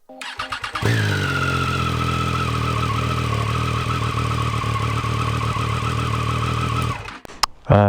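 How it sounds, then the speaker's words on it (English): A Triumph Street Triple 675 motorcycle with a hot start issue cranks briefly, catches, and settles into a loud, steady close-up idle for about six seconds before cutting off abruptly. "Now let's make sure the bike starts."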